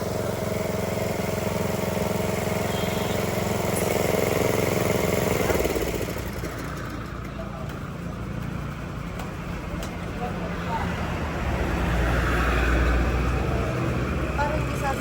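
A grass cutter engine, freshly cleaned carburetor and new oil, idles with a steady buzzing drone that shifts in tone partway through, loud and close, with talk over it.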